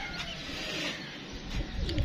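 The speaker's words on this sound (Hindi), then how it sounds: "सियालकोटी कबूतर है जी" Sialkoti pigeons on a rooftop give soft, low, throaty coos for about two seconds, close by over faint outdoor background noise.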